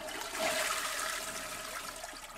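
A futuristic toilet in The Sims 4 spraying and flushing water, a steady rushing hiss of moderate loudness heard alone with no talk.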